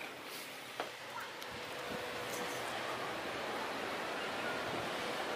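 Sea waves wash in a soft, continuous surf hiss along the Dead Sea shore at a Jordan resort, fairly faint and distant, with light wind and a few small knocks and taps.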